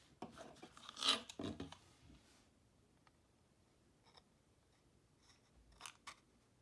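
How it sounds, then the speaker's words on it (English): Quiet snipping and rasping as sharp scissors cut through yarn strands on a tassel maker, a cluster of cuts early on, then a few faint, scattered snips. "take the sharpest scissors that I have and I'm going to cut evenly across the bottom"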